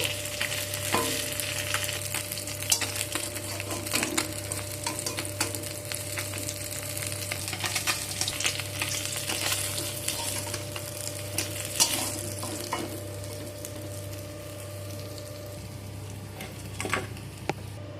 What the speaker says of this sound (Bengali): যতক্ষণ এই মাছগুলো ভাজা হচ্ছে ততক্ষণ আমি একটা মশলা করে নেব।